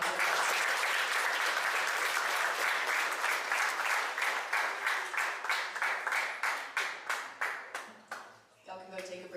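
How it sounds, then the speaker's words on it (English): Crowd applause at a high school athletic sports banquet, sustained clapping that thins into separate, rhythmic claps and fades near the end, followed by brief talk. "give these people another round of applause"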